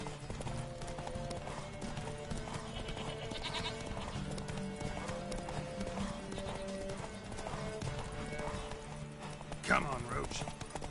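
Roach, Geralt's horse in The Witcher 3: Wild Hunt, trots with a steady, close clip-clop of hooves over game music and ambience, while someone talks over it.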